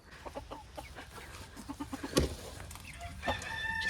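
Chickens on a hobby farm cluck in quick scattered bursts, with a rooster crowing loudly near the middle and again toward the end, all close by amid barn background noise.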